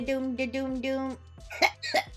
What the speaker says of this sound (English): I don't know what it is, but I'm keep coughing.